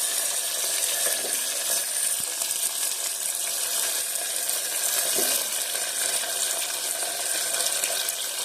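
Potatoes dropped into hot oil where mustard seeds have already crackled, giving a steady, close, loud sizzle that runs unbroken throughout, with no talking.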